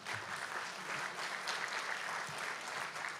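Steady applause from a conference audience after a speech at a global health and welfare forum in Taiwan, dense and continuous clapping throughout with no speech.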